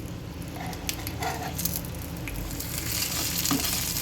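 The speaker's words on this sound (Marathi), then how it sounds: "आपण आता ह्या सर्व कापांवर थोडं थोडं तेल टाकून घेणार आहोत आणि आता हे आपण पलटवून घेऊया" Brinjal slices frying in oil in a pan, a dense continuous sizzle with faint crackles and a few light scrapes, close and steady, swelling slightly louder toward the end, with no talking.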